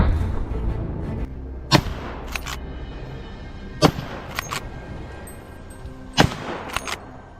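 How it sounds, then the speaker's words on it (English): Several sharp, muffled shots from a suppressed rifle during a wild boar hunt sound at irregular intervals, each a quick crack with a short tail, separated by quiet outdoor background. "A sharp shot rang out, sending the prey into eternal sleep without a warning."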